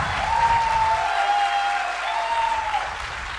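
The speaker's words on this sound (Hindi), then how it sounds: "तालियां बहुत कम है" A large audience at a motivational talk applauds loudly and steadily, a dense unbroken wash of clapping over several seconds with a faint tonal hum running underneath.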